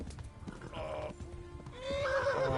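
In the video game Kingdom Come: Deliverance, a horse's hooves clop rapidly at a gallop, followed by a loud, drawn-out whinny. Faint rustling and background game ambience run underneath.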